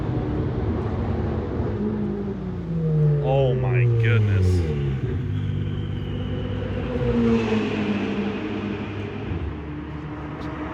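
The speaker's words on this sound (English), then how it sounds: "Just hear the cars roll by." Race cars roll past at Monza with deep engine rumble, one rising and falling in pitch as it goes by, while a person speaks briefly.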